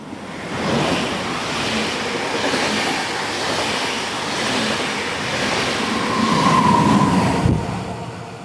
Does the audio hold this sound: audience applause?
no